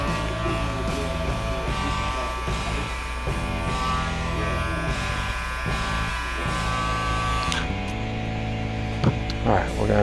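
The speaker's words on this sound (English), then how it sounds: "Do a really nice looking beard trim." An electric beard trimmer buzzes steadily and close up while trimming a man's beard, its hum shifting slightly in pitch as it moves through the hair.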